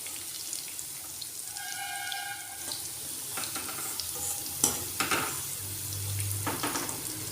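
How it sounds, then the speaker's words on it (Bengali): Pitha made with sweet potato and mung dal frying in oil, a steady soft sizzle throughout with occasional clinks and scraping as the pieces are turned, fairly close and moderately loud. "পিঠেগুলো এইভাবেই ভেজে নেব।"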